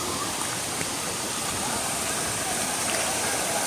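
Waterfall in Tamhini Ghat during monsoon rain, a steady, dense rushing roar of falling water that stays constant and fairly close throughout.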